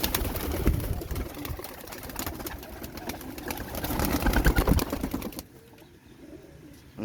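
Old-breed Sialkot pigeons coo and shuffle in their loft, soft repeated cooing with wing flutters over a low background hum, quieting toward the end.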